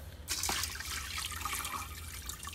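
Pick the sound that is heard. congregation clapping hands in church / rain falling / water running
water running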